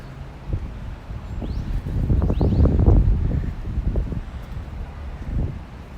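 Strong wind gusts buffet the microphone on the Brooklyn Bridge, a steady low roar swelling and easing over several seconds, with faint distant city sounds beneath.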